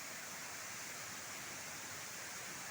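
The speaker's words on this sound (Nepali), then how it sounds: "यो हाम्रो टिङ्मो फल्स अति सुन्दर झरनाको दृश्य" Tingmo Falls, a waterfall in a village eco-tourism setting, gives a steady, broadband rushing roar that stays even and unbroken throughout, quiet in level, with no voices.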